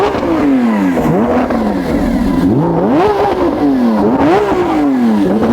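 A Lamborghini Aventador SVJ's V12 revved repeatedly while stationary, the pitch climbing and falling in several loud, close blips with a rasping exhaust note, no talking.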